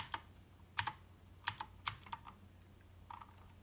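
Typing on an Obins Anne Pro wireless RGB mechanical keyboard gives quiet, irregular clusters of crisp key clacks with short pauses between bursts, heard close up with no talking.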